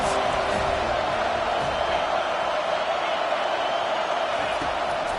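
Stadium crowd in College Football 25 roaring steadily on a big third down, a dense continuous wall of cheering that holds loud and unbroken from start to finish.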